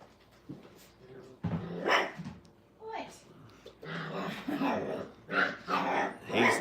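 A dog at a puppy training kennel barks and growls in scattered bursts at close range, mixed with whimpering yelps and rough vocal noise.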